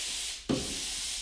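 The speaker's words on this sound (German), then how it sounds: "Der Schliff erfolgt immer in Richtung der Holzmaserung, nicht dagegen." Sanding block rubbed by hand along the grain of a wooden worktop, a steady close abrasive hiss with one sharper, louder stroke change midway.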